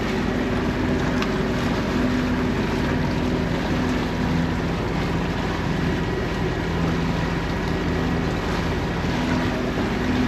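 Steady boat engine drone as a sailboat motors into a headwind with its sail pulled in, mixed with constant wind buffeting against the microphone and faint water wash, unbroken for the whole stretch.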